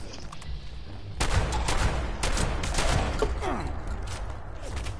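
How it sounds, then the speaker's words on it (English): Sniper fire from a building in the video game Fallout 76 rings out as sharp, loud gunshot bursts, starting with a few isolated cracks and then turning into a dense volley of shots and echoes. "I'm getting like sniped from this building"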